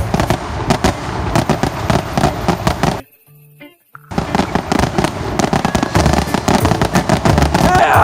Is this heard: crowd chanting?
no